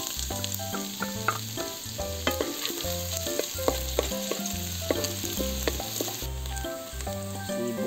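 Ginger and garlic sizzle and crackle steadily in hot oil as a pan of pork offal adobo gets its start, punctuated by repeated scrapes and clacks of a stirring utensil, close and fairly loud with no talking.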